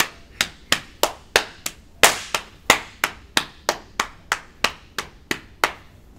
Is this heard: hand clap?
yes